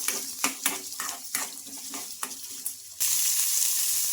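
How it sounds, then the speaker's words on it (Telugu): Chopped onions and green chillies fry in oil in a pan for a puffed-rice breakfast, with a steady sizzle broken by repeated clicks of a spoon stirring, the sizzle swelling louder and even near the end. "ఇంకా ఆనియన్స్ కలర్ చేంజ్ అయ్యే వరకు ఫ్రై చేసుకుందాం"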